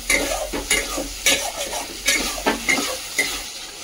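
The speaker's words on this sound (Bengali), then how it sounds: "এখন ভালো করে নেড়ে নেব এবং 3 মিনিট মতো কুক করে নেব" Spices such as cumin, ginger and chilli being stirred into village-style mutton curry in a pan, a loud sizzle broken by regular scraping strokes of a spoon about every half second.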